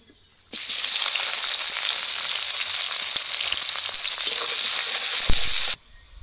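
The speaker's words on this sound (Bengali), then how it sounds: "তেল গরম হয়ে গেছে, পেঁয়াজ কুচি, রসুন আর কাঁচা লঙ্কা দিয়ে কষিয়ে নেব।" Chopped onion, garlic and green chilli hit hot mustard oil with a sudden loud, bright sizzle that holds strong and even for about five seconds, then cuts off abruptly. There is no speech.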